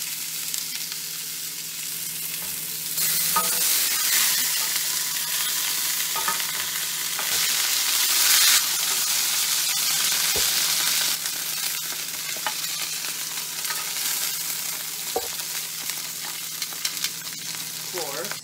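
Lard sizzling in a pan as the base for turkey gravy, a loud continuous hiss that swells and settles, broken by a few sharp utensil knocks and scrapes, close and without talk.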